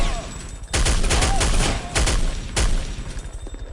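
Loud machine-gun fire in the video game Counter-Strike: Condition Zero, several rapid sustained bursts with short gaps between them, up close and dominating the mix.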